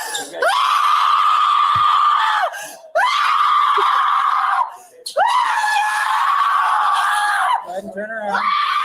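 Repeated loud, long screaming cries like a goat scream sound effect, three sustained strained bursts separated by short gaps, followed by a brief rougher bleat at the end.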